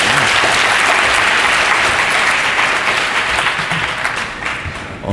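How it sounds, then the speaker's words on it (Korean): A conference audience at a lightning-talk session claps loudly and continuously as a speaker is called up, the dense applause fading slightly toward the end. "박수 한번 부탁드립니다."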